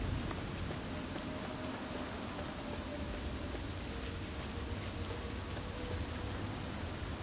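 Rain falling in the modded video game Fallout 3, a steady dense hiss of rainfall with no break across the whole stretch, with faint tonal ambience beneath and no talking.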